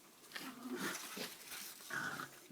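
A dog barks and growls in short bursts nearby in an outdoor garden setting, several loud harsh calls spread across a couple of seconds with no talk over them.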